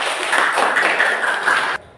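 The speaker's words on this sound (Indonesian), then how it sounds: "Tepuk tangan kepada kelompok" Brief burst of dense clapping from a classroom audience applauding a student group during a teaching session, steady and close for under two seconds before cutting off abruptly.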